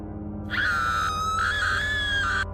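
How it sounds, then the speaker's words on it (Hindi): A sudden high-pitched scream erupts in a tense Hindi drama scene, holding for about two seconds with a wavering pitch, loud and close over a steady low background hum, with no talk. "तभी अचानक एक चीख सुनाई देती है।"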